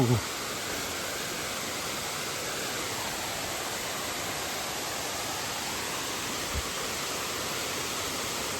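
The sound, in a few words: waterfall on the Blue Ridge Parkway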